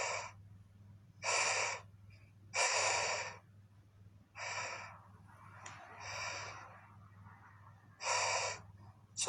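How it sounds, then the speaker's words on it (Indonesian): Repeated sharp, breathy gasps in bursts of about a second each, loud and close, over a steady low hum, sounding like someone short of breath and panicking. "Sesak gue dengan ini sesak nafas ini ya."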